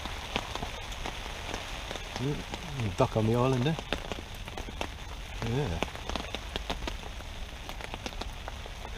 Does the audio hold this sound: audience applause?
no